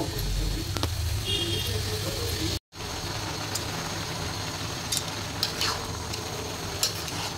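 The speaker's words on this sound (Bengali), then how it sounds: "লাউটা আমরা লাড়ি দিলাম" Bottle gourd with turmeric, salt and green chilli is stirred in a pan, a close sizzling hiss with scraping strokes, briefly cut by a short gap partway through.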